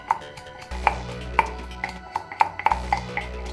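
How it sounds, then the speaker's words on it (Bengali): Peeled garlic cloves are lightly crushed with a pestle, about a dozen sharp, irregular knocks with a slight ringing tone, close and clear with no talking. "একটা গোটা রসুন ছিলে কোয়া বের করে আমি এরকম কুটনিতে দিয়ে ছেঁচে নিচ্ছি"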